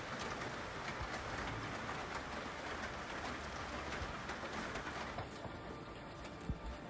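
Heavy rain with hail from a thunderstorm in Texas gives a dense, continuous hiss of pelting drops and clatter on surfaces, fairly quiet and steady throughout with occasional sharper impacts near the end.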